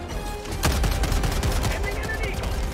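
Gunfire in the video game Helldivers 2 as a spore is shot, a rapid, dense burst of repeated shots running continuously throughout at close range.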